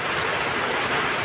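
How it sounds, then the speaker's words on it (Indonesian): Steady rain falls outdoors during aglaonema plant care, making a continuous even hiss of dense drops with no pauses and no voices. "Maaf ini pembuatan videonya pas hujan jadi suaranya agak ganggu"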